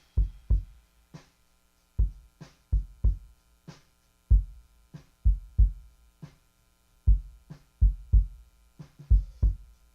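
A kick drum recording played back dry with no EQ, with a little snare bleed: deep, punchy thumps in a loose repeating pattern, mostly singles and pairs, loud and close with nothing else over them.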